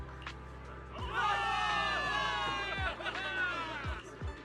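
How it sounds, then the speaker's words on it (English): A crowd of many voices in the video game Zenless Zone Zero cheers and shouts together in a sustained burst, with a few low thuds underneath. "Give it up for yourselves, soldiers! Cheer for victory!"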